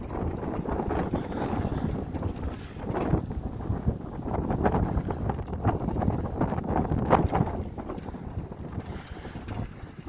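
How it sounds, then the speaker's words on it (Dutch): Strong wind roars and buffets the microphone in continuous gusts on a cycle route to Hulst, loud and rough with no other clear sounds. "Enorm veel wind"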